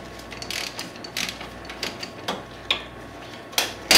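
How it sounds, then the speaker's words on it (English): A ratchet wrench loosens a brake line on a 2005 Subaru Legacy GT during a Brembo brake install, giving several separate clicking ratchet bursts spaced apart, close and fairly loud with no talking. "loosen up the brake line so that when the caliper does come loose, I can set the caliper down"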